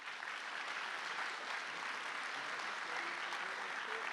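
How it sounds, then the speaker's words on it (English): Audience applause at the HammerCon 2025 opening remarks, a dense steady wash of many hands clapping throughout, moderately distant and unbroken. "So if all of you could just give a round of applause."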